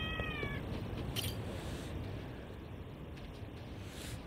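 A cat in the video game Lost Judgment gives a short, clear meow at the start, followed by a few faint game sounds over a steady low background hum.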